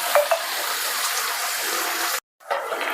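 Hot water pours into a pot of potatoes being cooked for a large home-catered order, giving a steady rushing splash that cuts off for a moment and then resumes.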